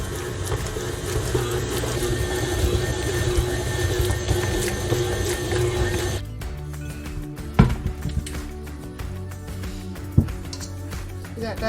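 An electric stand mixer kneads whole wheat bread dough with butter, a steady motor whir that shifts in tone partway through, with occasional thumps and knocks from the dough against the bowl.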